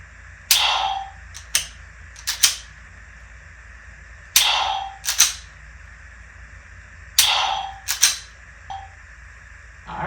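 Dry-fire trigger clicks from a Glock 19 pistol at home: three pairs of sharp, close metallic snaps spaced a few seconds apart, with quiet background between them.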